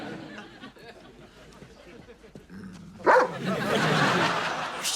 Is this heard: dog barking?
yes